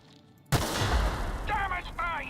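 A sudden loud blast from an explosive in The Outer Worlds hits after a quiet moment, a heavy boom with a rumbling tail, followed by a person speaking over the fading noise.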